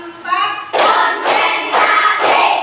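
A classroom of students claps in unison, four sharp, evenly spaced bursts following a brief voice at the start.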